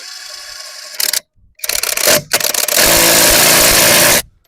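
Grosser GID 230N cordless impact wrench tightens a bolt at 120 newton-metres, sounding close and loud: a short burst, then a rattling hammer run, and finally a sustained hammering stretch before it stops.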